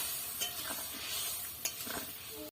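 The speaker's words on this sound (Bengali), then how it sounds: "এবারে দিয়ে দেবো ভেজে রাখা পনিরগুলো দিয়ে আরও একটু ফুটিয়ে নেব" Fried paneer cubes in a simmering mustard and poppy seed gravy, with a soft steady bubbling sizzle and a few light clinks of a spoon stirring the pot.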